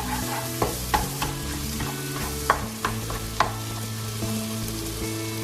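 Tomato curry paste sizzles steadily in oil in a pan while a spoon stirs and scrapes it in occasional sharp knocks, close and continuous with no voices, for a vegan Indian cabbage and potato curry.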